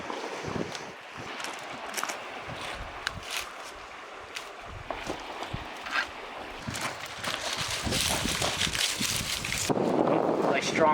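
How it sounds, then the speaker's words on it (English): Strong wind buffets the microphone outdoors at a campsite while a fire is being started, rumbling gusts building louder toward the end, with a person talking intermittently over it. "Really strong wind coming from that way."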